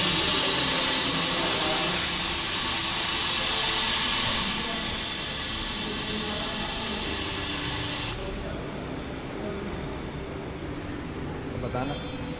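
Loud continuous hissing blast of pressurized air or spray from a cleaning machine on a Hero Xtreme 125R motorcycle at its first service, roaring steadily for several seconds, then dropping to a lower hiss.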